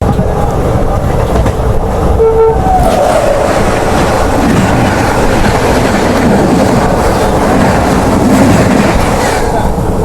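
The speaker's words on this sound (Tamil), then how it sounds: "இருங்க இந்த ட்ரெயின் கிராசிங் முடியட்டும் அப்புறம் பேசுறேன்" A train rumbles past close by at a level crossing, loud and continuous, with rattling wheels and clacking carriages and a brief horn-like tone early on, while a voice is faintly heard beneath.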